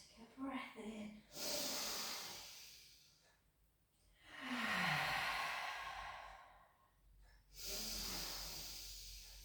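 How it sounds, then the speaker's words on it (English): Several close, audible breaths in and out during a pilates exercise, long airy sighs in a slow rhythm, with soft voiced breathiness between them. "just take a breath in"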